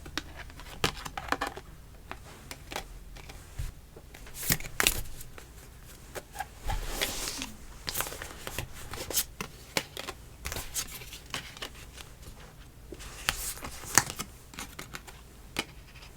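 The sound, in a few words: shuffling advice cards for a love tarot reading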